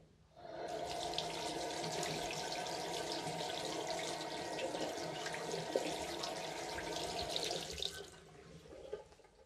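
Shower water sprays steadily onto two IP68-rated Haylou smartwatches (Solar LS05 and LS01), a continuous loud hiss of running water that starts abruptly and stops near the end, leaving quieter drips.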